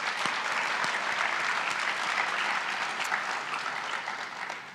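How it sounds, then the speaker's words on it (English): Steady applause from an audience at a university Grad Slam final round showcase, a full even wash of clapping in a hall that fades slightly toward the end. "So let's give them a round of applause as well."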